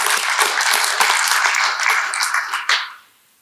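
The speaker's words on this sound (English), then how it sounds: "Let's give him another round of applause, everyone." A round of enthusiastic audience applause for a speaker named Scott, loud and close with many hands clapping, ending in a sudden final burst before cutting off.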